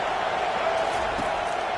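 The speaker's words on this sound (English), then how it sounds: "the noise from this crowd on 3rd and 4" A college football stadium crowd at an Alabama versus UCLA game roars continuously in a loud, dense wash of noise late in the game, with no pauses.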